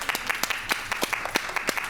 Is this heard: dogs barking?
no